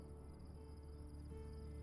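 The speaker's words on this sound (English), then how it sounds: "there's like a cricket sound?" Steady cricket chirping runs through the ambient background of a video game set at a lake, continuous and fairly quiet with a constant high trill and no speech.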